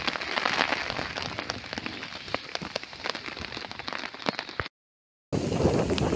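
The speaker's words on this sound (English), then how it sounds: "It's been raining for a good 2 hours now" Rain falls steadily on a wild camping shelter at an ancient Iron Age hillfort during a storm, a dense close patter with scattered louder drops that continues until a short silent gap and then resumes.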